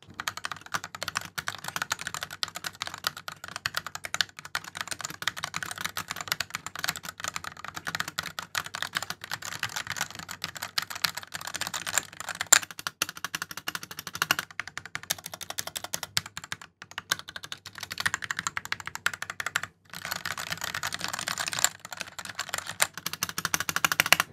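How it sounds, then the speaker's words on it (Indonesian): Continuous fast typing on a Koodo Arcadia mechanical keyboard, a dense stream of crisp clicky keystrokes heard close and alone, with brief pauses. "Yang pertama ini adalah suara dari Kudo Arcadia."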